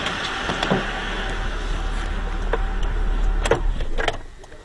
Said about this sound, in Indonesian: Saya akan matikan mesinnya.